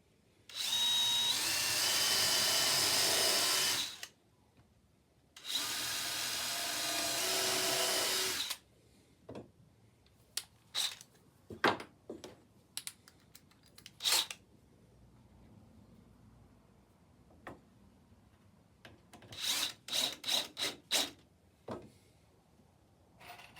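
Two long bursts of a buzzing power sander up close on a wooden planter box, followed by scattered knocks and clatter of handling wood.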